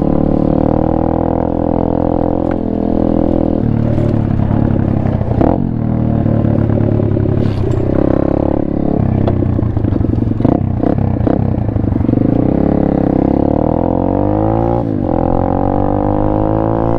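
Apollo RFZ Chinese pit bike engine droning loudly and steadily while riding, with throttle rises and falls, clattering and scraping bumps throughout.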